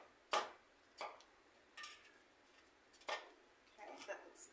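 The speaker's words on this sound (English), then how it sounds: "I'm going to chop them up fine like this." Knife chopping fresh strawberries for a parfait on a cutting board, a few sharp separate taps spaced about a second apart, fairly faint and close.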